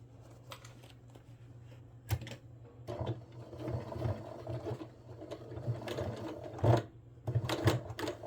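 A sewing machine stitches a zipper using a zipper foot, running in short, uneven bursts of rapid mechanical clatter with brief pauses between runs, close and fairly quiet.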